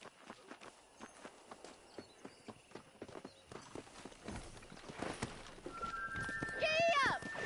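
Horse hooves clip-clop in a steady repeated rhythm, then quicken toward a gallop; a horse whinnies near the end, and voices speak over the hoofbeats.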